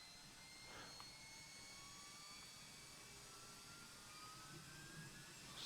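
Airbus A321 auxiliary power unit spinning up, a faint steady whine with slowly rising tones over a low rumble.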